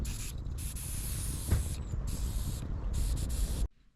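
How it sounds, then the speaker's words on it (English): Leftover hairspray is emptied from a travel-size aerosol can in a loud, close, continuous hiss that breaks off into short bursts before stopping abruptly. "So I just emptied out what was left in the can."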